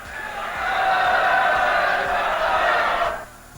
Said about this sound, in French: À l'Hôtel de Ville, la République naît dans les acclamations.